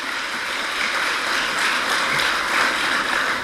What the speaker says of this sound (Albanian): Një duartrokitje për të gjithë ju.